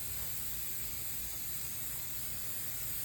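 A can of spray adhesive hisses in one continuous, steady burst while a fabric quilt is basted, close and even throughout with no voices.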